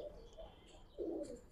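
Pigeons of an old breed coo softly, with two low, rounded coo phrases, the second fuller and longer, over quiet background.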